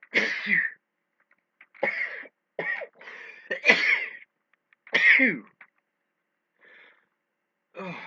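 Several sharp, close sneezes after taking snuff burst out in quick succession with short gaps between them, followed by a brief spoken exclamation.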